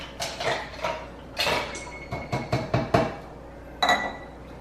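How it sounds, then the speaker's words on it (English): Several ice cubes drop one after another into a cup of brewed coffee, making sharp, bright clinks and knocks in irregular bursts, close by and alone. "So I always put a couple extra ice cubes in there."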